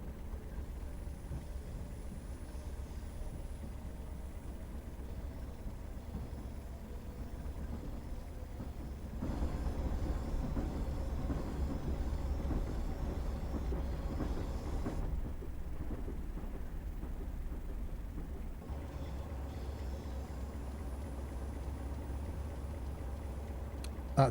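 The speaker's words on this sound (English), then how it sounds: "All be well, the engine should now be started." A Class 377 electric train idles on the London to Brighton route in Train Simulator 2018, giving a steady low rumble and hum that steps louder around the middle and then settles back.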